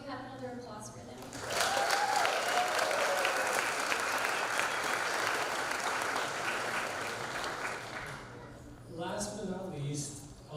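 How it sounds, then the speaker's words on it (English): Guests at a folklorico gala showcase break into sustained applause after a brief spoken introduction; the clapping holds steady for several seconds and fades as a voice resumes talking. "May we have another applause for them."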